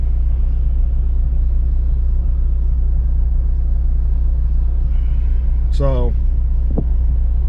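An idling car engine with a MercRacing aftercooler, heard from inside as a loud, steady low rumble throughout, with someone briefly speaking over it near the end.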